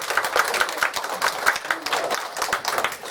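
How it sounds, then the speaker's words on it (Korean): A congregation at a Sunday church service claps to welcome a newcomer, with sharp individual claps in a loose, uneven rhythm and a moderately close, lively sound. "우리 박수 한번 치겠습니다."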